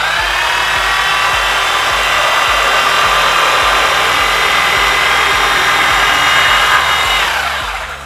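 A Parkside 710W reciprocating saw cutting steadily, a loud, continuous buzzing rasp with a rapid stroke rhythm that runs unbroken for about seven seconds before winding down near the end, with no talk over it.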